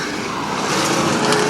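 Street stock race cars roar together on the Kil Kare Speedway track at the green flag, a loud, dense, continuous drone of engines close by.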